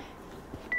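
A phone keypad gives a single short electronic tone near the end while the phone is being muted, heard over a low background hum in a church deliverance service.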